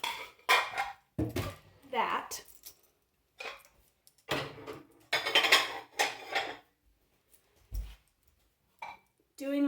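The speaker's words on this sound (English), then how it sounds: "put away the clean dishes from before" Clean dishes, pots and cutlery are put away in a home kitchen with a string of close clinks, clatters and knocks between pauses, and a person talks now and then.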